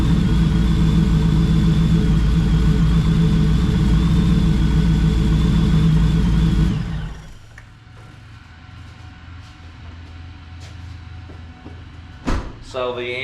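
A Ford SVT Lightning pickup that sat for 14 years with under 1,000 miles idles loudly and steadily just after a cold start, then shuts off abruptly, leaving a quiet room with a few clicks and knocks.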